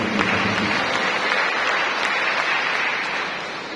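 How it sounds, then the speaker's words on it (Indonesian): Lively applause from a seminar audience at a session on agrarian conflict, a sustained clatter of many hands clapping together that eases slightly at the end. "Sekali lagi kita berikan tepuk tangan yang meriah."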